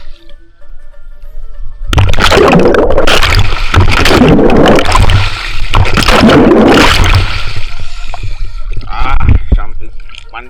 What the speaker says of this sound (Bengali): তো আমি একটা ডুব দিয়ে দিচ্ছি।